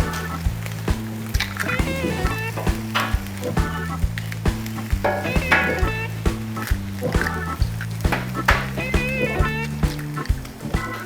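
Eggs cracked onto a hot Blackstone griddle for hash brown omelettes, continuous sizzle with repeated low thuds and clicks from cooking sounds throughout, up close, with a faint voice underneath.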